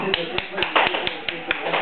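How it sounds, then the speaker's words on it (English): A grandfather claps his hands at home for a four-year-old girl who has just sung, a steady run of sharp, close slaps at a quick even pace while voices talk over them. "Clap! Grandpa, clap."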